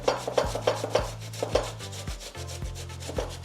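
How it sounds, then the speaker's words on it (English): A small piece of tomato is grated by hand, giving a dozen quick, close scraping strokes in a steady back-and-forth rhythm over a low sustained background tone. "And basically just grate, because that just makes the texture easier for the baby."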